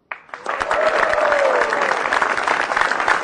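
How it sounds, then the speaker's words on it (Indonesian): A stand-up comedy audience breaks into loud, sustained clapping that starts abruptly and keeps going steadily, with a voice briefly audible over it. "Langsung aja beri tepuk tangan yang meriah buat Aco."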